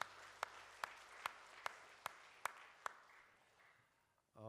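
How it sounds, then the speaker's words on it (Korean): A church congregation claps along in a slow, steady rhythm, about eight distinct beats at even intervals, faint and set against the room's murmur, before dying away. "수고한 찬양들을 위해서 감사의 박수 한번 합니다."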